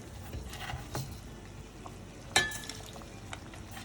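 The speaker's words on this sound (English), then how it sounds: "It has started boiling." Veg Manchurian gravy bubbles softly in a pan at a low simmer, with one sharp clink of a utensil against metal partway through.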